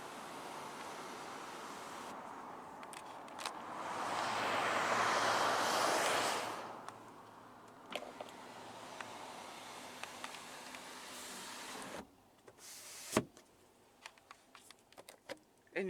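Power sunroof of a 2019 Ford EcoSport Titanium opening, a smooth steady motor whir with rushing air swelling for a few seconds near the middle, followed by soft clicks and handling taps inside the quiet cabin.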